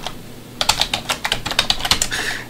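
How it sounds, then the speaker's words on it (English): Close, crisp clicks from a computer keyboard as an email address is entered, in a quick uneven patter of keystrokes after a brief quiet start. "I'm going to type in my email address"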